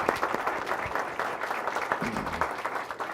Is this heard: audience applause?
yes